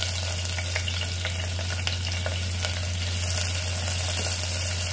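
Onions dropped into hot oil with toasted cumin seeds and dried red chillies, frying with a steady, dense sizzle and occasional stirring scrapes throughout, close and continuous.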